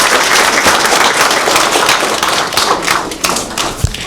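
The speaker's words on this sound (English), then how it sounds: "please give him another round of applause." Audience applause at a community board meeting: dense, steady clapping from a roomful of people, loud and sustained throughout, with no talking over it.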